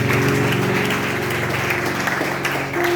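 A church congregation applauding during a sermon: dense, steady clapping that fills the whole stretch with a broad wash of sound, with a faint toned layer running underneath.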